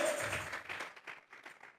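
A church congregation claps together as an offering of praise to God, a burst of fairly close applause that thins into scattered, fading claps.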